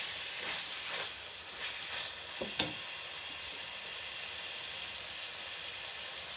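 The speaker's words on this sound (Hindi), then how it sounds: "कीमे की मैं यहाँ पे भुनाई कर रही हूँ।" Minced meat frying with fenugreek leaves, a steady close sizzle broken by a few stirring scrapes early on before the pan hisses on alone.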